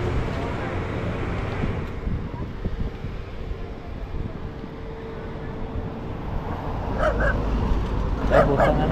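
Several dogs barking near Twin Lakes, the barks coming late and fairly close over steady wind rumble and a people talking.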